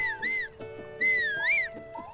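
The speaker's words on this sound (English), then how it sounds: "That whistle right there calls your horse to you" A rising-and-falling two-note whistle calling a horse in Zelda: Breath of the Wild, clear and close, sounding twice over soft background game tones.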